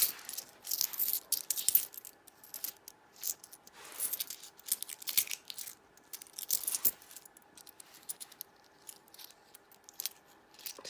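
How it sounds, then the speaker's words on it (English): Russian ruble coins clink and jingle as they are handled and shuffled, with repeated bright metallic taps and rattles in irregular bursts, close and fairly loud, no talking. "There's some coins."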